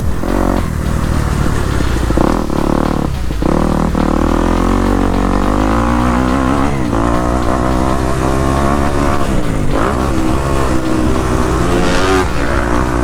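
Motocross dirt bike on a high-speed track at Murphys in Red Rock, its engine loud and close throughout a lap, revving up and down through gear changes and throttle bursts.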